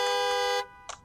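A steady electronic car horn tone from Freddy Fazbear Pizzeria Simulator, used as a time-up signal, blares loudly for just over half a second, then cuts off, leaving two faint short blips.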